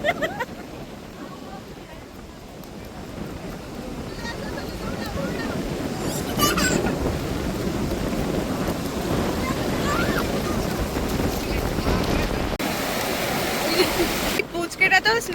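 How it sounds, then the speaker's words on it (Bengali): Sea waves surge and wash on Tajpur beach, where people are bathing, as a continuous roar with wind buffeting the microphone. Voices are faintly mixed in. "মানে সামনের ঢেউটা জাস্ট দেখো, তোমাদেরকে জুম করে দেখাই, দীঘার ঢেউয়ের থেকে কম কিছু না।"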